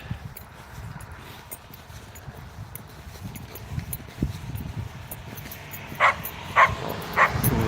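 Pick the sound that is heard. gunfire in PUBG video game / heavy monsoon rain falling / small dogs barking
small dogs barking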